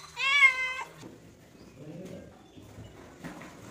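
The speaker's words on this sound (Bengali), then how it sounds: "এই দেখো বিড়াল" A pet cat gives one clear, close meow near the start, followed by quieter low rustling and faint background noise.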